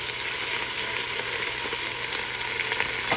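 Spaghetti sauce and diced tomatoes hitting a hot pot sizzle and fry steadily and loudly, a close, continuous hiss with faint stirring clicks and no talk.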